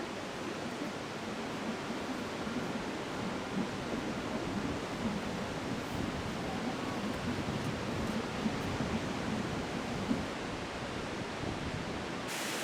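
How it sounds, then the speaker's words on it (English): Steady broadband roar of the Skradinski Buk waterfalls, a river cascading down a rock staircase in Dalmatia, filling the space with continuous loud rushing water and no voices. "Guided by the roar of the water, we soon come upon the Skradinsky Buk, the great waterfalls."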